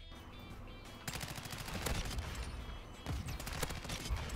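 Chimera assault rifle firing in Modern Warfare 2, a video game: rapid bursts of automatic fire in several volleys, with clusters of sharp shots that pick up after the first second and continue at a steady, loud level.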